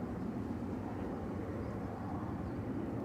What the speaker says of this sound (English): There goes Ryanair to Malaga, 9HVVN, flight 3208, 737 MAX 8 200,